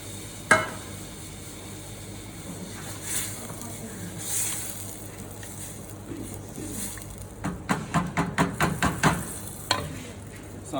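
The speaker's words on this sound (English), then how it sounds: "once the sauce starts to simmer, I'm gonna add the meat" Meat is dropped into a pan of simmering sauce, giving a soft bubbling hiss, then a run of quick, loud stirring scrapes and clatters near the end.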